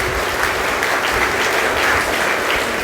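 An audience at an awards and motivational event for successful Group II 2023 exam candidates in Kanchipuram gives a guest sustained, dense applause, loud and even throughout with no speech.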